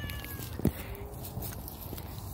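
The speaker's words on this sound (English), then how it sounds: "I've seen this cat in the front yard" A stray cat in a front yard lets out one brief, faint meow, set well back in quiet outdoor ambience.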